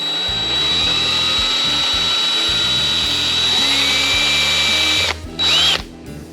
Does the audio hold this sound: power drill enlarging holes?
yes